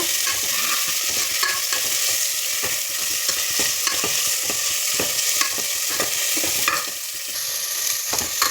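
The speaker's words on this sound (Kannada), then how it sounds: "ಟೊಮೊಟೊ ಅದನ್ನು ಹಾಕೊಳ್ಳೋಣ ಅದನ್ನು ಫ್ರೈ ಮಾಡ್ಕೊಳ್ಳೋಣ" Tomatoes fry in a pan over already-fried onion for a lentil sambar, giving a loud, continuous sizzle punctuated by frequent scraping clicks of a spatula stirring them.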